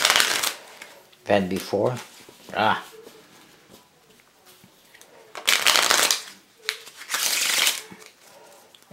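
A deck of thin-stock Bicycle playing cards gets riffle shuffled in several loud, close bursts of rapid flutter, with someone talking in between.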